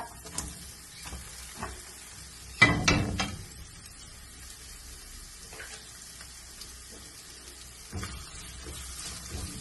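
Sliced onions for chicken kurma land in hot oil with a sudden loud hiss burst, then settle into a soft, steady frying sizzle. Occasional faint clinks and stirring noises follow, with no talk.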